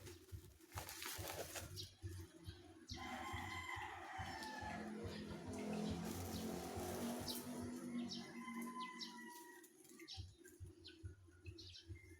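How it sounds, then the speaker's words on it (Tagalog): Several chickens cluck and a rooster crows amid a busy farmyard at feeding time, the calls overlapping steadily and fairly close throughout. "Habang nagpapakain tayo sa mga alaga natin manok"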